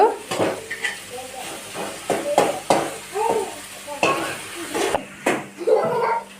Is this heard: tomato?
yes